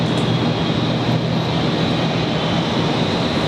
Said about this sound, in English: this one here is a Fokker 100